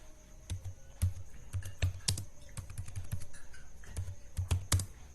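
Keys clack on a computer keyboard while a headline is typed, a close, steady patter of quick taps in short bursts with brief pauses, no voices.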